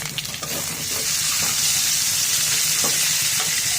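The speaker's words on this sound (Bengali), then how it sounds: "দেখতে পাচ্ছেন আমার পেঁয়াজ মরিচ আর শুটকিটা খুব ভালোভাবে ভাজা হয়ে গেছে। এটা আমি কেটে রাখা টমেটো দিয়ে দিব।" Onion, chili and dried fish frying in oil with chopped tomato, a loud, steady close-up sizzle with faint scraping of a spatula early on.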